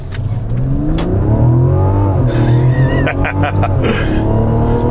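A Mazda CX-60 crossover accelerates hard, its engine note rising steadily and loudly through the gears close by, with no talking over it.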